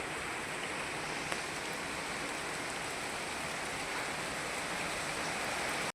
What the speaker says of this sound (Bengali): দেখো বৃষ্টির আওয়াজে কিছু শোনা যাচ্ছে না, আমাদের এখানে খুব বৃষ্টি হচ্ছে